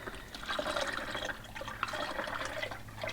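Motor oil pours steadily into a funnel during an oil change, a continuous close liquid trickle and gurgle with no talk.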